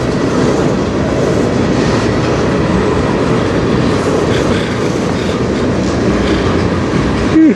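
A CN freight train rolls past on the Strathroy Subdivision, a steady loud rumble with rhythmic clickety-clack of wheels over rail joints continuing throughout, close by.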